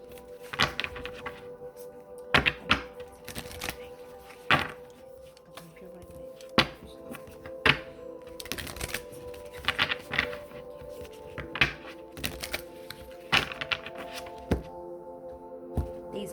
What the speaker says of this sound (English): These cards are so thick, they be so hard to shuffle at times